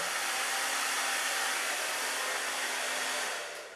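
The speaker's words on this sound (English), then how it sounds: "turn your hairdryer on and turn it on a low power" A hair dryer on low power blows steadily with an even, airy hiss, running close and continuously before starting to wind down at the end.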